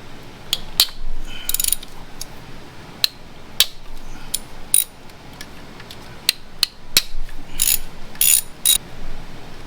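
Hand ratchet with a T30 Torx bit loosening the bolts of a BMW N55 Valvetronic servo motor, rapid bursts of close metallic clicking with sharp ticks and brief pauses between strokes.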